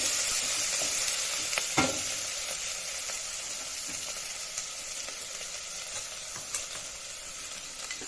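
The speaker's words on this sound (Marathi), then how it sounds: "ते वाटण छान तेलामध्ये परतून घ्यायचं आहे।" Mutton masala paste frying in plenty of oil in a pan, a steady soft sizzle with occasional clinks and scrapes of a stirring spoon against the vessel, no voices.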